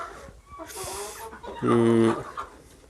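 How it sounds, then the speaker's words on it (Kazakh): Minorca hens on a small farm cluck and squawk in short, fairly close bursts, one louder drawn-out call standing out near the middle, with faint background noise around them. "Және мына жерде минорка тұқымдас тауықтар."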